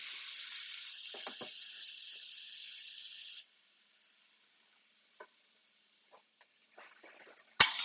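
Onions hit hot oil in a pan with a loud, steady sizzle and hiss for about three seconds, then it cuts away to near silence broken by a few faint clicks and a sharp knock at the end.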